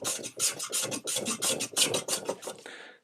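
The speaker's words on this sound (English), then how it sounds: "a little bit more planing here, and that should get it flat." Hand plane rasping across damaged wood furniture to strip the old finish, a steady series of rough scraping strokes in close, loud rhythm with no talk.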